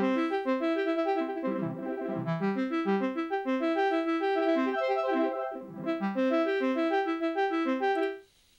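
A synth arpeggio from the RPG-8 arpeggiator in Reason plays a steady, rapid run of bright stepped notes, rising and falling in a continuous pattern for about eight seconds before cutting off, with no voices.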